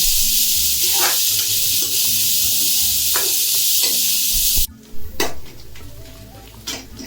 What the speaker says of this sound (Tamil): அந்த வெங்காயத்தை போட்டுருவாங்க. போட்டு வதக்குவாங்க.